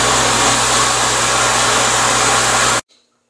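Well water pump running loud and steady while filling a pressure tank, a continuous motor drone with a constant hum that stops abruptly near the end.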